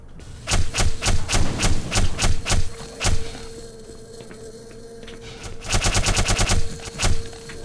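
Rapid bursts of gunfire in Black Mesa: two volleys of sharp, evenly spaced shots, loud and close, with a short pause between them.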